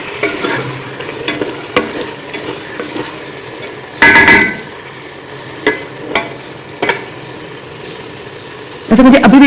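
A spoon stirs kachnar chicken in a hot handi pot over a constant soft sizzle, with a few loud close scrapes and clanks against the pot and lighter taps in between.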